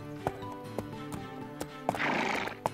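A cartoon horse whinnies and neighs while hooves clip-clop in a steady rhythm, loud and close with a bright musical score underneath.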